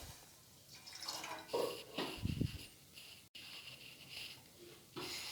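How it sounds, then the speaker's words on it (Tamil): Water poured from a tumbler into a cooking pot on a stove while making sugar syrup for bread gulab jamun; a short, close splash and gurgle stands out between quieter kitchen handling noises. "1 டம்ளர் தண்ணி ஊற்றுறேன்."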